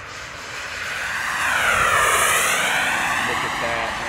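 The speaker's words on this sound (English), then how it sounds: "Second flight of the day on the big Super Viper, turbine style" A large HSD Super Viper RC turbine jet passes overhead, its high whining roar swelling to a peak and easing off as it flies by, with people talking nearby.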